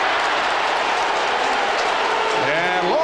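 A large NFL stadium crowd roars and boos in a dense, continuous wash of noise after a missed long field goal attempt, with a voice rising briefly near the end.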